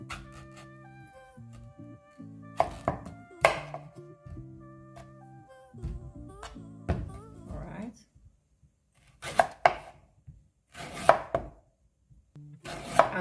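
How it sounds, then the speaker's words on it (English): A knife chops food into small pieces on a cutting board, sharp irregular taps in bursts with pauses, while a person talks over soft background music at first. "we just cut the rest of it up small, really small"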